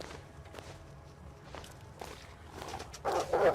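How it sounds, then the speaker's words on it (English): Footsteps crunching along inside a cave in the survival game The Long Dark, a steady run of soft steps under a low ambient rumble, growing louder and closer toward the end. "I heard the footsteps."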